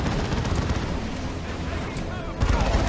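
Hotshot lasgun fire in the real-time strategy game Dawn of War 2 Retribution, dense overlapping crackling shots and explosions in continuous battle noise, with a louder burst near the end.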